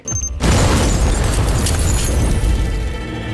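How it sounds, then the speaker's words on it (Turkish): A violent explosion bursts out after a brief quiet start, a loud sustained roar of blast and rumbling debris filling the rest of the moment in a Turkish TV drama trailer. "O sırada ise şiddetli bir patlama dengeleri değiştirecek."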